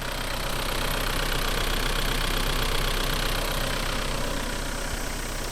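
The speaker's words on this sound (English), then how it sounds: "I'm going to switch it off because diesels are noisy" A 2.7-liter turbo diesel engine in a 1992 Nissan Caravan 4x4 idles steadily with a constant clattering rumble, close and even throughout, with no voices.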